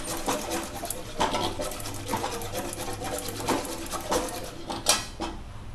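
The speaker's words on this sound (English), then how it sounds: "filling of the kunafa. We have to mix it vigorously like this" A spoon vigorously mixing kunafa filling in a metal pan, producing a steady rhythm of quick scraping and clinking strokes, close and moderately loud, with no voices.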